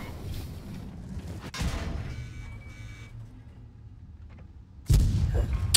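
Tank cannon blasts in World of Tanks, two loud booms several seconds apart over a rumbling engine drone, the second heavier and closer.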